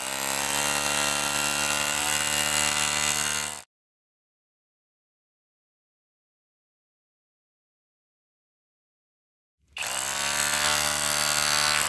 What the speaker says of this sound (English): today we are testing out a Kobalt SDS Hammer Drill